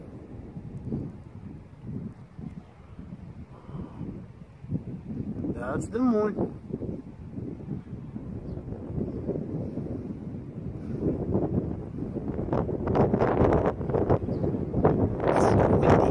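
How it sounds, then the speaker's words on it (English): Gusty wind buffets the microphone outdoors at sunset with a low rumble, while someone talks intermittently over it. "It's windy tonight."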